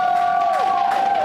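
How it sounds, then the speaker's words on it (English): An audience at a live event cheers and whoops loudly, with a single sustained shout ringing over the crowd noise and faint clapping in the background. "Give him another round of applause."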